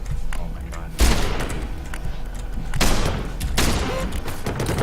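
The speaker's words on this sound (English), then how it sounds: "The thing with the shotgun is, it's just such a slow-firing weapon that you actually don't deal much damage with it." Shotgun blasts in the action video game Trash TV, several loud booming shots spaced a second or two apart over continuous game noise.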